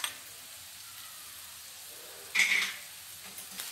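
Green chilies fry in a pan with onion and ginger-garlic paste for a vegetable pasta, making a steady, soft sizzle that flares into a brief, louder hiss partway through.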